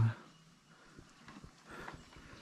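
Horse hooves clip-clop on the ground near the Plain of Jars Site 3 in Xiangkhouang, Laos: a scatter of uneven, fairly close hoof knocks over soft outdoor background noise.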